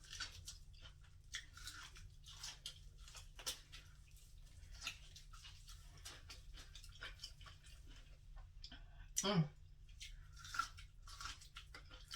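Corn on the cob is bitten and chewed close to the mic, a soft continuous run of wet crunching and chewing with repeated small bites, quiet and without talk.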